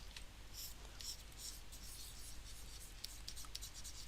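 A pencil scratches and sketches across paper in short quiet strokes, faint and close, with a low background hum, during an illustration sketching lesson.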